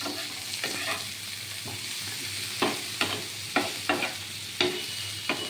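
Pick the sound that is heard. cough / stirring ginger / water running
stirring ginger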